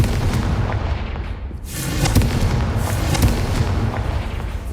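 A Confringo spell blast in Hogwarts Legacy, a fiery burst landing partway through with a sharp whooshing crack followed by a couple of booming impacts amid a rumbling game backdrop.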